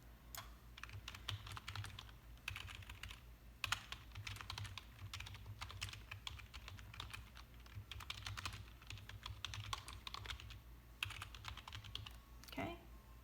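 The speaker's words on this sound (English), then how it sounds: "Type your question in here." Steady typing on a computer keyboard as a question is entered, rapid clustered keystrokes continuing for over ten seconds at a moderate, close level with brief pauses between bursts.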